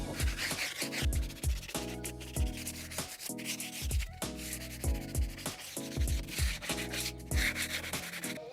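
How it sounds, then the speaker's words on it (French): A power sander works over painted wooden shutters in repeated rhythmic passes, each stroke a rough rubbing scratch that rises and falls, close and steady. "Un petit coup de ponceuse."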